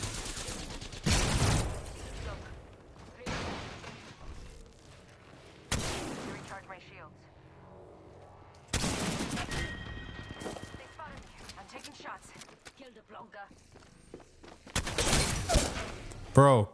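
Heavy gunfire in the Apex Legends video game comes in several loud, sharp bursts and volleys, separated by quieter stretches with scattered shots and a voice talking underneath.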